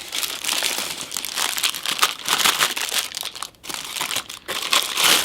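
Plastic bags wrapping Star Wars Galaxy's Edge merchandise crinkle and rustle continuously at close range, a dense crackling texture with brief pauses and no talk.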